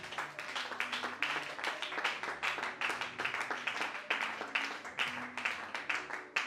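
A church congregation claps together in a steady, fast rhythm of many hands, moderately distant and sustained, with a few voices faintly mixed into the applause.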